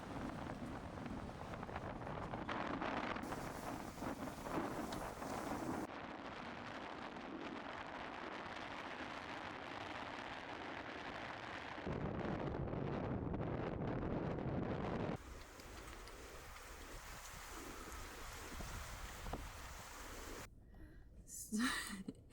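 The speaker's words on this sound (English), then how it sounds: "This wind is a lot more powerful than we thought it was going to be in this area." Strong wind blows outdoors in Norway, roaring and buffeting the microphone in a steady, loud broadband rush that shifts in intensity over about twenty seconds.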